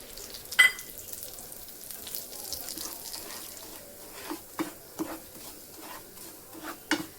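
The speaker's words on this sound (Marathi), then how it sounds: "एक चमचा घी टाकून घेऊया आणि अर्धी वाटी रवा भाजून घ्यायचा आहे।" Semolina roasting with a spoonful of ghee in a pan gives a soft, low crackle, punctuated by intermittent spatula scrapes and taps that come in small clusters, with one louder knock early on.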